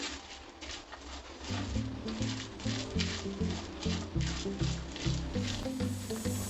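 Chopped vegetables and capsicum being mixed by hand in a bowl, giving soft, wet, rhythmic squishing and pressing sounds, close and fairly quiet, with no voices.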